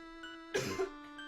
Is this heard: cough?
yes